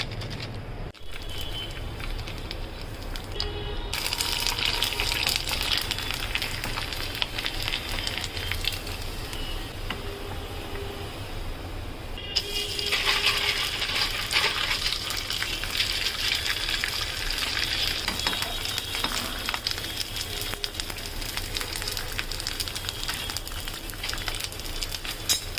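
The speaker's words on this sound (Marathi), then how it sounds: "आपले पापड तळून झाले बघा" Sun-dried rice papad fried in hot oil produce a loud, continuous bubbling sizzle that surges as each piece goes in, with brief quieter gaps between batches.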